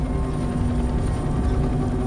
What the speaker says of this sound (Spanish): Tenía la esperanza de que el helicóptero barriese la zona